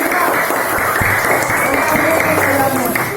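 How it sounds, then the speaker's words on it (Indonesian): A group of students claps in a classroom lesson, an uneven patter of hands with a few sharper individual claps, fairly close and loud, with a murmur of voices underneath. "Hebat, tepuk tangan untuk kelompok"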